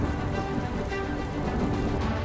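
Heavy unseasonal winter rain in Gujarat pours down in a dense, constant patter on surfaces, close and steady throughout with no voices.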